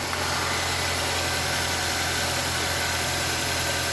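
A car engine idles steadily through an oil and oil filter change, a constant mid-pitched hum and vibration with no change in speed and no voices.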